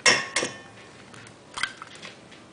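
Grated cheese being stirred into a squash and zucchini casserole batter in a bowl: a couple of bright clinks of a utensil against the bowl, then quieter scraping, close and faint with no talking.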